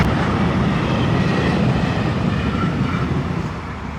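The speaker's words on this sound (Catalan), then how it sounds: "I era just passar un tren" A train on an Italian rail line passes close by in a loud, steady rumble that fills the whole stretch and fades slightly at the end, with no talking over it.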